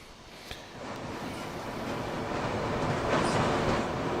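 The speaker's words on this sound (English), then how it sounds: "So you can catch the train from Belair now along this track." A train runs along the Belair line track with a steady rumble and rattle that swells slightly toward the end. One sharp click sounds near the start, and no one speaks.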